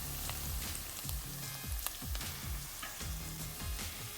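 Curry leaves frying in oil in a pan, a steady close sizzle with crackling pops throughout, no voices.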